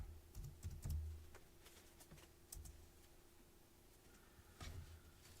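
Quiet bursts of typing on a computer keyboard during a live cardmaking stream, a few short clusters of clicks separated by near-silent pauses.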